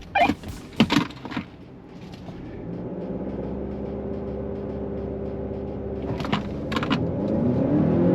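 A few clunks and knocks are followed by a car engine droning and gradually building as it accelerates in a drag race between a 2022 Hyundai Kona N, Mazda3 Turbo and Honda Accord 2.0, steady and close.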